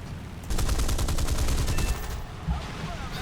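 British Hispano cannons firing in the War Thunder game, a rapid rhythmic burst of a dozen or so heavy booming shots over about one and a half seconds, loud and close, followed by engine drone.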